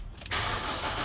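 A 2010 Ford Fusion engine cranking briefly and catching, a short starter whir followed by the engine firing into a steady, close running roar.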